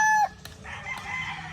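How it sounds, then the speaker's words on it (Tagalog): A rooster crows on a farm, a loud clear call opening the moment, then fades into softer clucking and general fowl noise from nearby chickens. "Bibidyohan natin yung mga manok para makita nyo mga boss."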